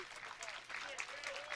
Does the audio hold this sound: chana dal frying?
no